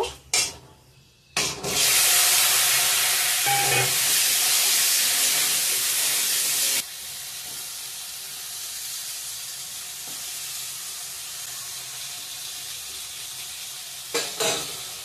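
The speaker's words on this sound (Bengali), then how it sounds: "সব মাছ ভাজা হয়ে গেছে, এখন পটল ভাজা করে নেব" Pointed gourd (potol) frying in a pan after fish, a loud bright sizzle that flares up, holds steady, then drops to a softer hiss with occasional stirring scrapes, without any voices.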